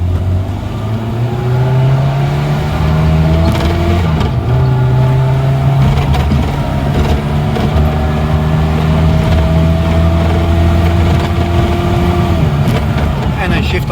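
A 1996 Rover Mini with a 1.3L engine and automatic gearbox drives along, its engine droning loud and close with steady tonal hum, the pitch dropping and settling as gears change, a voice talking over it.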